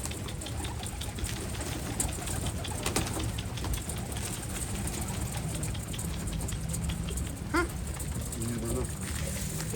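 Soft pigeon cooing close by, mixed with people talking and some rustling and handling noise.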